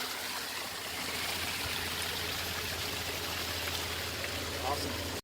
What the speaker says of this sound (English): this is the water that's coming out of the 400-foot depth right now